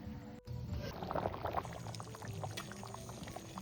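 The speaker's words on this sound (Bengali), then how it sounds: "এখন মাংস সিদ্ধ করা জলটাই ঢেলে দিচ্ছি।" Meat-boiling water poured into a pot of mutton curry with yogurt and potatoes: a steady close splashing pour running throughout, with no talk.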